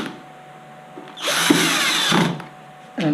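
A power screwdriver drives screws into a mobility scooter gearbox on an MGI Zip Navigator, giving one loud whirring burst of about a second after quiet mechanical handling, then the start of another burst at the end.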